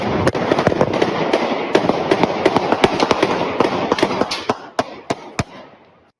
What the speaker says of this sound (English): Then you hear gunfire.